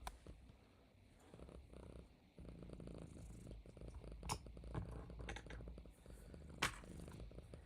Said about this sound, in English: She's a happy cat. She just had snacks.